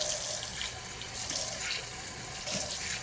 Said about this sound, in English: I'll just rinse it out like that.